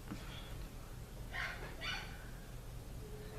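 A dog barks twice in the distance, two short faint yelps about half a second apart over a steady low room hum, with no talking.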